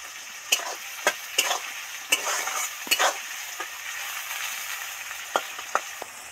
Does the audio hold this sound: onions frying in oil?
yes